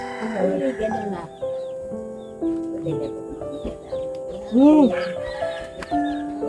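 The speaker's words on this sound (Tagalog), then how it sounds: "Maraming manok." Chickens cluck and squawk now and then close by while people talk over them.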